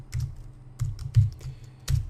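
Fingers type on a computer keyboard in irregular bursts of soft clicks and key thumps, close and clear with no talking.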